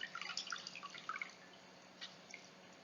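Hands being rinsed under running water after removing makeup with cotton pads; soft splashing and dripping fill the first second or so, then fade to a couple of faint drips in near silence.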